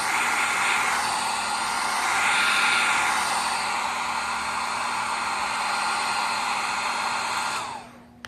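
A hair dryer blows at close range onto a leather furniture repair, a loud steady rushing hiss with a slight swell in the middle, running alone for about eight seconds before it cuts off abruptly.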